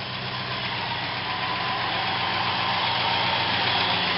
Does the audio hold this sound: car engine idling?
yes